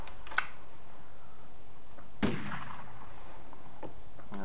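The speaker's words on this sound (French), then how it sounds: "Coup de feu." A sharp, loud gunshot cracks once in the video game Project Zomboid, with a smaller pop just before it, then a quiet, low background hum with no talking.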